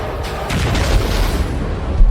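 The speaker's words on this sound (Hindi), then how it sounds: "पुतिन की मिसाइलें और पुतिन के गोले" Missile and artillery shell explosions from combat in the Russia–Ukraine war, a dense continuous low rumble of booms with no distinct single blast, steady and loud for about two seconds.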